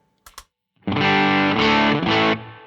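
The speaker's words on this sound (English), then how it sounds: "So what you're hearing is the amp being pushed." An electric guitar on the treble single-coil pickup drives an amp pushed by a Way Huge Red Llama overdrive pedal, with a few muted clicks followed by a loud distorted strummed chord, re-struck twice before cutting off, with no speech.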